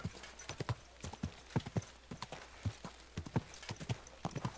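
Rapid hoofbeats clatter in an irregular clip-clop rhythm as a horse moves close by in Kingdom Come: Deliverance II, with a brief whinny mixed into the steady stepping.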